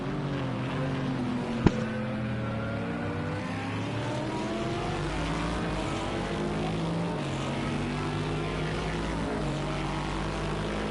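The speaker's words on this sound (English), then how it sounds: "You can hear the distinct Bentley engine, even from the front of Flip's car." Bentley GT3 racing car engine at Spa in a racing video game, a steady loud droning roar with rising and falling harmonic pitch as it accelerates, one sharp click near the start, no talking.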